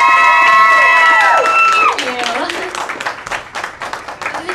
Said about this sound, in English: nice round of applause for number 8